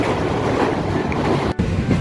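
A passenger train runs along near Bagdogra on the way toward Sikkim, giving a steady, loud broadband rumble with one brief dropout, and no talk.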